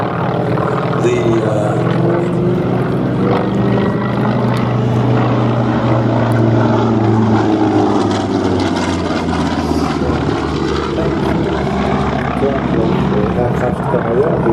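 Grumman Wildcat propeller fighter flying at an airshow, a steady loud drone that swells gently and stays continuous from start to end.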